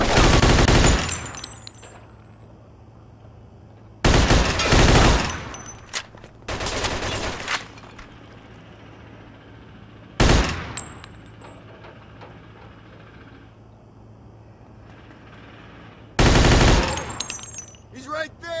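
Bursts of automatic gunfire in Mafia II, several loud rapid volleys separated by pauses, with single sharp shots and mechanical clatter between them.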